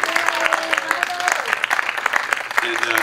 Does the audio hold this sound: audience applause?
yes